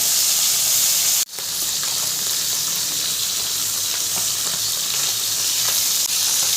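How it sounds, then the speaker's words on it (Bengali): Salted, turmeric-coated pieces of rohu fish sizzle in oil in a wok, a loud close hiss after a brief dip as the fish goes in, then steady crackling frying. "কড়াইয়ে একে একে মাছগুলো দিয়ে দিলাম"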